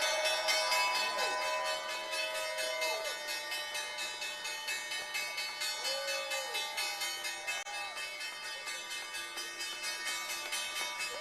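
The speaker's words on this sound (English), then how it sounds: "both ringing the closing bell" Stock exchange closing bell at the big board ringing continuously, a sustained metallic clanging with ringing overtones and steady rapid strikes, with faint voices underneath.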